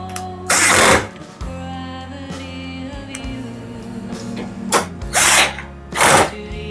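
Power drill driving screws into the top cover of a Samsung washing machine, several short, loud whirring bursts close by, separated by quieter mechanical hum.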